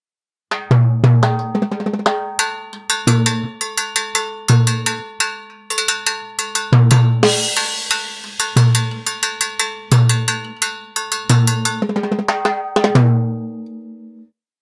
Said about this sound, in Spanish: ahora vamos a pasar a mostrar un poco lo que es el campaneo en el tumbado